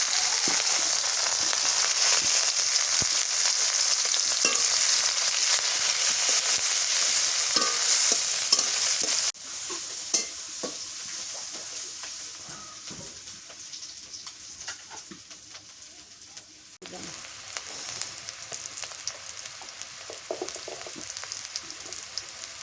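Turmeric and spices for a village-style kalbaush fish curry sizzle loudly in hot oil with a constant hiss, then settle into a quieter frying sizzle with light stirring and scraping before the sizzle rises again near the end.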